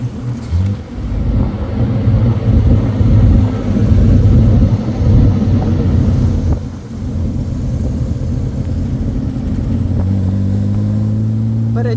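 A 1963 Austin Healey 3000 Mark II BJ7 with a heavy cast-iron six-cylinder engine rumbles along with a deep, steady exhaust drone, rising in pitch near the end as it revs, heard from inside the moving car.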